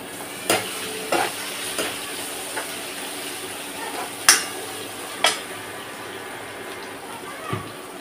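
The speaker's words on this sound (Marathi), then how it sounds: "टोमॅटो घालून देते याच्यात।" Tomatoes tipped into a pan of browned frying onions and stirred, a soft sizzle underneath with several sharp scraping and clattering strokes of the spoon, close by.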